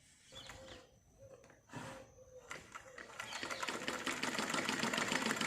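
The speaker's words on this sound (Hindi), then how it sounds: "अब हम इसमें नॉर्मल कपड़े में सिलाई करके देखते हैं कि हमारी सिलाई कैसी आ रही है" Sewing machine stitching ordinary cloth after rethreading, a steady mechanical whir that starts hesitantly with short bursts, then runs continuously and grows louder, close up with no talking.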